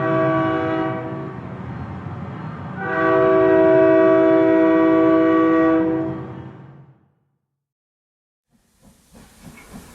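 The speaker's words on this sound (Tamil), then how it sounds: "ட்ரெயினுமே வந்துருச்சுங்க." A loud train horn blows twice, the second blast longer, then fades out; after a short silence, faint rumbling and hissing come in.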